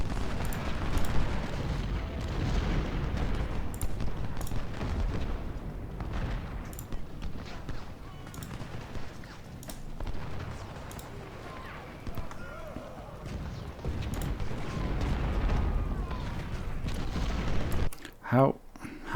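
Distant artillery and musket fire rumble through a Civil War battle at Fredericksburg in Ultimate General: Civil War, a dense low roar of booms and crackling volleys that runs continuously, with talk over the top.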